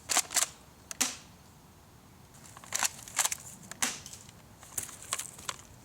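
A Double Eagle M56C airsoft tri-shot shotgun is pumped and cocked, giving sharp, close plastic clacks in quick pairs and clusters, repeated several times with short quiet gaps between.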